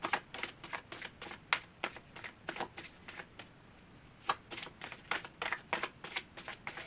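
Advice cards are shuffled for a Taurus card reading, giving soft, quick riffling bursts in an uneven rhythm. The shuffling is close but quiet, with no voices.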